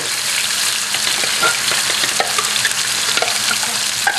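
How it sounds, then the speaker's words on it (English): Sambal and aromatics frying in hot oil in a wok, a loud, dense, steady sizzle and crackle up close, with occasional stirring scrapes and no voices. "So I'm heating up my aromatics right now."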